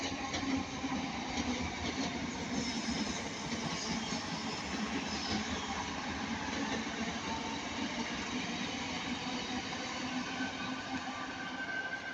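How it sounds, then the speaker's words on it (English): Class 323 electric multiple unit trains passing at Ardwick, a continuous loud roar of wheels and motors with faint clickety-clack from the rails, steady throughout with no talk. "These are both ex-West Midland trains."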